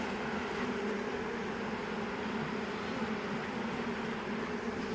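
Honey bees droning around an open overwintered nuc hive during a fall split, a steady low hum that stays even and continuous throughout.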